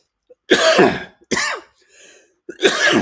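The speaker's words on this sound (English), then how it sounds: "That's me coughing all over you." Three harsh, throaty coughs close to the microphone, spaced about a second apart, with a faint rasp between them.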